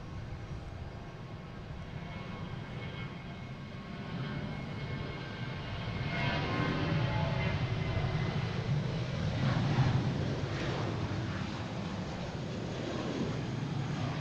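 A JetBlue airliner departs Boston Logan for Orlando, its jet engines a fairly faint, distant rumble that builds midway and then holds steady, with no talk over it.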